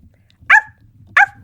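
A person imitates a small yappy dog, giving two sharp, close barks spaced about half a second apart against a quiet background.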